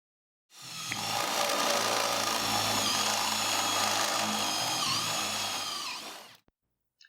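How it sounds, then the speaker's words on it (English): A power drill with a step drill bit whines steadily through thin unibody sheet metal of a Jeep XJ Cherokee for several seconds with a grinding, high-pitched edge, then stops abruptly. "then the corners drilled with a step drill"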